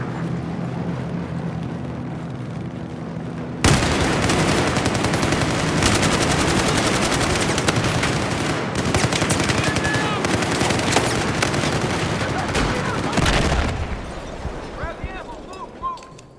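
Rapid machine gun fire in Battlefield 4 multiplayer rattles loudly and almost nonstop from about the fourth second, mixed with other gunfire and battle noise, then drops away near the end.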